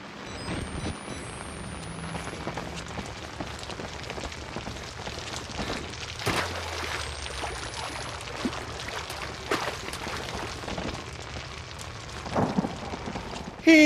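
Steady rain pours down in the Outlast horror video game, a dense, continuous hiss with occasional louder gusts and thuds rising out of it, heard alone without talk.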